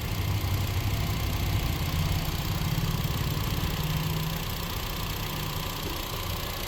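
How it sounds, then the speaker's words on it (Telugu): A 2014 Honda Brio petrol engine idles steadily, a continuous low rumble with a faint rhythmic beat running evenly throughout, with no talking over it. "ఇంజన్ ఒకసారి బీటింగ్ వినండి"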